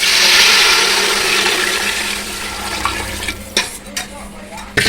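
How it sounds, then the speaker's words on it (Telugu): Water splashes into a hot frying pan of browned masala for chicken biryani with a loud rushing hiss. It fades into softer bubbling, broken by a few clinks of a utensil. "ఇదండి వాటర్ పోసేస్తాం"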